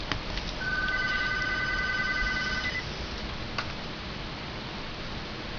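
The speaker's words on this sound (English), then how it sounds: "of course, the phone's ringing." A telephone rings once, a faint electronic trill lasting about two seconds over quiet room hiss, followed by a soft click.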